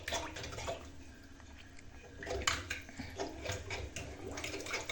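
Water running down the drain of a washbasin as it is being cleaned, a soft close trickle and gurgle with small splashes and clinks, fairly quiet and unbroken by speech.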